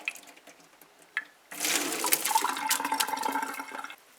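Cooked rice, rinsed with room-temperature water, is poured into a strainer for chicken fried rice, giving a sudden loud rush of splashing, draining water that runs steadily for about two and a half seconds before stopping.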